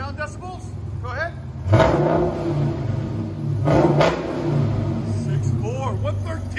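A 2013 Dodge Challenger SRT8 with a 6.4L HEMI V8 and Dynomax Race Bullet dual exhaust idles with a deep burble, then revs hard twice, with a loud blip near the start and another later, as people talk nearby.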